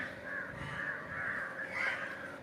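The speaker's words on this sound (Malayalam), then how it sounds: "അവിടെ ധാരാളം കാക്കകൾ പിന്നെയും കുളിക്കുന്നത് കണ്ടു" Crows bathing in water caw repeatedly, several harsh calls following one another in an uneven run, fairly near and clear with nobody talking.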